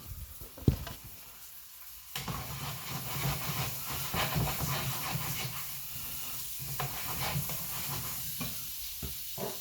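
Vegetables frying in vegetable oil in a pan with a steady soft hiss, broken by occasional clacks and scrapes of a plastic utensil stirring, fairly quiet and close with no talk.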